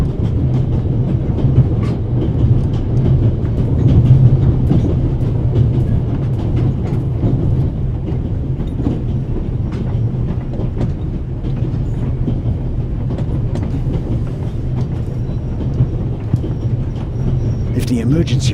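Heavy, continuous rumble of a moving train in The Raven Remastered, with steady rolling noise and faint rhythmic clatter, loud and close throughout, with some voice-like sounds mixed into the background.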